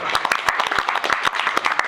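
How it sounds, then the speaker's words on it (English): An audience bursts into a short round of applause at Charlotte Motor Speedway, a dense, even patter of many hands clapping close by. "let's give them a round of applause"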